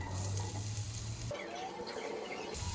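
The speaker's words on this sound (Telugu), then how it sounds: "ఈ ప్యాన్లో ఒక స్పూన్ ఆయిల్ వేస్తున్నాను ఇందులోనే జీలకర్ర వేస్తున్నాను ఇప్పుడు ఆనియన్స్ వేస్తున్నా" Onions frying in a spoonful of oil with cumin in a pan give a soft, steady sizzle, faint and continuous, with a low hum underneath for part of it.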